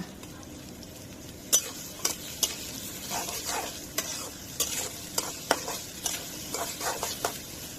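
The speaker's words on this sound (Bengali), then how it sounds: "এখন পেঁয়াজটা ভেজে নিব" Onions frying with salt in a pan, a continuous sizzle broken by repeated sharp scrapes and clinks of a spoon stirring against the metal, close and fairly loud, no talk.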